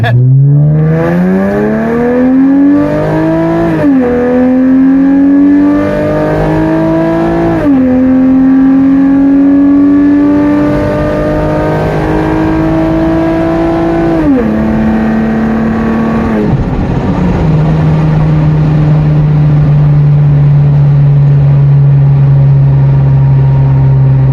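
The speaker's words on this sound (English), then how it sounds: "This is a launch straight from nothing." Car with Cherry Bomb mufflers launching hard from a standstill, engine roaring loud and close as it climbs through several gear changes, each shift dropping the pitch before it rises again, then settling into a steady drone; a voice talks briefly over it.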